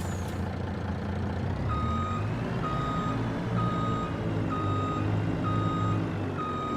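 Reversing beeps from a truck in Farming Simulator 25 on an Iowa farm map, a steady series of evenly spaced electronic tones over a continuous low engine rumble.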